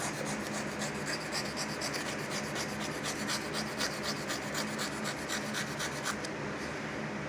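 A not-very-sharp blade is worked back and forth at a steady angle to cut a bevel, giving a close, continuous rasping scrape with even rhythmic strokes and no talking.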